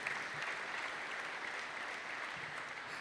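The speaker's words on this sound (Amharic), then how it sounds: "እስቲ አጨብጭቡላት እስቲ ለዚች እህታችን" An audience applauds at a religious gathering, a steady wash of clapping throughout at moderate, somewhat distant level with no talk over it.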